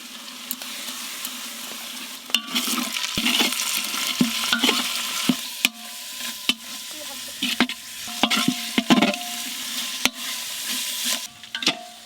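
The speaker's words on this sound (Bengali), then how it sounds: "এই মশলাটা দিয়ে কষে এই নেব" Spice paste being sautéed in a pot for chicken biryani, a continuous close sizzle with frequent clattering stirs and scrapes of a spoon at an irregular pace.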